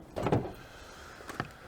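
A drawer slides open from a canopy on a Toyota Hilux with a short double-clunk near the start, followed about a second later by a second sharp rattling knock, all close by and fairly quiet.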